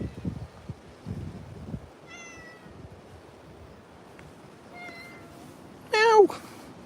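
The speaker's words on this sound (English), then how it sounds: "Little cat here." A single cat gives one loud, close meow near the end, after several seconds of quiet outdoor ambience with a few faint chirps.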